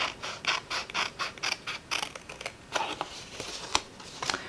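Blade cutting along a scored line to cut away a handmade frame, a run of quick, crisp creaking snips in short bursts, close and fairly quiet with no talk.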